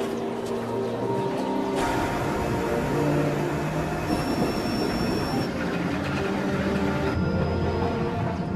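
An aerial tramway cable car ride begins on the Palm Springs-style mountain tram to the Santa Rosa and San Jacinto mountains, with a steady loud mechanical rumble and whine, squeals and clanks over continuous motion noise; no talking.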